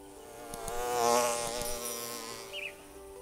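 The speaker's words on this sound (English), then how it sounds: "there's lots of insects around, which is great to see since there are so many flowers at this point" Insects buzzing around flowering cantaloupe melon plants in a garden, a steady soft drone that swells near the middle and fades, with brief flybys passing close.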